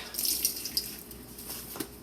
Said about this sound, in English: Squeeze out the excess water again.